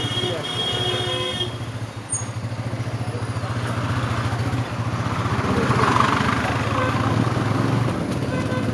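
Motorbike engine droning steadily throughout a ride to school, a low rumble with road noise beneath continuous talk from the rider.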